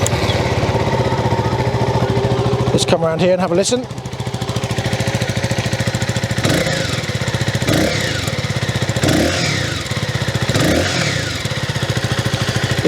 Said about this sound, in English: because I'm now going to start it up.